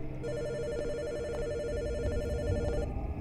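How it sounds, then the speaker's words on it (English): A telephone rings steadily inside a horror video game set in a house at night, its repeating electronic bell pattern clear and continuous over a low, dense background rumble, with no talking. "Should I answer the phone?"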